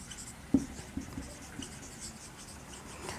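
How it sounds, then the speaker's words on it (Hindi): Chalk or marker strokes on a classroom board as a stress diagram is drawn for a reinforced concrete lesson, a sharp tap followed by a few faint scratchy marks in a quiet room. "आपका ये यहाँ लिख लेते हैं स्ट्रेस डायग्राम।"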